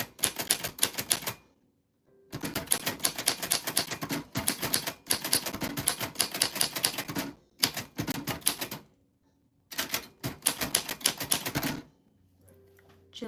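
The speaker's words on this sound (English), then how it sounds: "Today we are going to be typing on a vintage typewriter." A vintage typewriter is typed on in long rapid bursts of sharp mechanical key strikes, broken by a few short pauses, loud and close with no voices.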